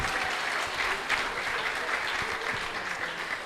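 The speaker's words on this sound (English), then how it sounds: "Please, a thunderous round of applause for this panel." Sustained, fairly loud clapping from a conference audience at a Nigerian economic dialogue, saluting a panel, with individual claps standing out in a continuous roar.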